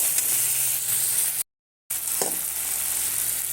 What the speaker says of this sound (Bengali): তো কচুগুলো দিয়ে দিচ্ছি।